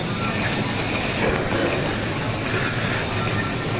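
A train rumbles steadily, a dense continuous roar of wheels and motion heard from on board or close by, without pause.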